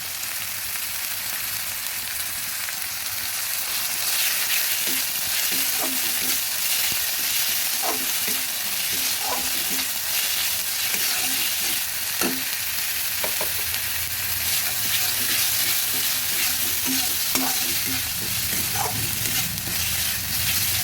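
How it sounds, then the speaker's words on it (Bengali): Chopped onion fries in a pan for a pomfret fish dish, giving a steady, close sizzle throughout with scattered clicks and scrapes of a spatula stirring. "এবার দিয়ে দিচ্ছি পেঁয়াজ কুচি"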